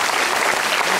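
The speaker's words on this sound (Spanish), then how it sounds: "Un aplauso por esta militancia dispuesta" A crowd of political party supporters at a rally breaks into dense, continuous applause, loud and close, with no voices above it.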